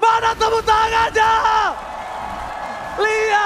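An excited caster shouts over an MPL playoff match crowd at a Mobile Legends esports event, the cheering swelling under his voice, easing off, then rising again as he resumes.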